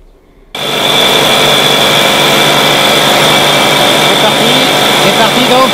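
A Solex 1700 moped engine idles on a test bench. It starts abruptly after a brief quiet moment, then runs as a loud, steady, buzzing drone close by.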